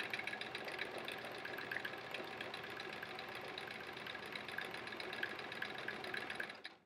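A sewing machine runs steadily and close by while free-motion quilting a clock block for a quilt-as-you-go sampler, a continuous rapid needle chatter that holds even for nearly seven seconds, then stops abruptly.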